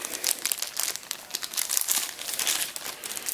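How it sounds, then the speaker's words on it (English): A BlackJack International Mini Mamba knife is pulled from its crinkly plastic packaging, giving dense, close crumpling and crackling that runs without a break, with no voices. "Let's take it out of the plastic."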